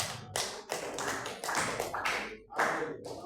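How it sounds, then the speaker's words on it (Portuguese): A church congregation clapping for Jesus during a worship service makes a series of close, sharp claps and taps that form an irregular rhythm, with some voices mixed in. "Palmas para Jesus."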